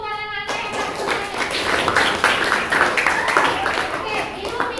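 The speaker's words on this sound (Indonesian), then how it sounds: "tepuk tangan dulu buat anak-anak" Children clapping together in a classroom, a brief burst of applause for the kids with a teacher's voice speaking over it.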